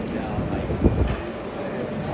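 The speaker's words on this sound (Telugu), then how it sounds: "రిసార్ట్ వరల్డ్ స్టేషన్ అంటే ఇది మెట్రో ట్రైన్ ఇది" A metro train runs through Resorts World station in Singapore, giving a steady close rumble with a brief louder thump partway through, and people talk over it.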